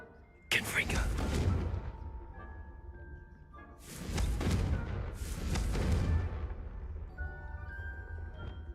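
Confringo blasting curse explosions in Hogwarts Legacy, three loud booming bursts, each a second or more long, with quieter magical tones and ringing between them.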